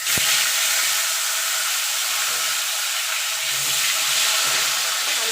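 Potatoes fry in hot oil left over from frying fish, a loud, steady broadband sizzle and hiss that runs without a break, with a faint clink near the start.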